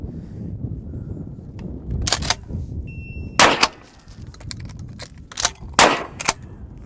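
Shotgun firing at a cardboard target downrange outdoors, several sharp loud blasts spaced irregularly, two close together near the end, over low background rumble.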